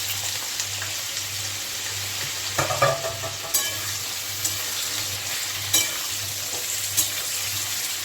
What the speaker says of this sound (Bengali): এই যে কোয়াশ আর এই যে আলু, তাকে আমি একটু ভেজে নিচ্ছি